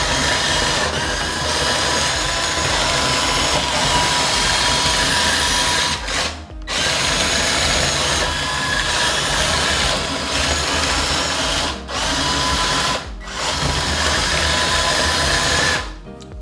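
A radio-controlled Volvo EC160E electric excavator model runs at full speed, its motors giving a steady, loud whirring hum that briefly dips three times, with no voices.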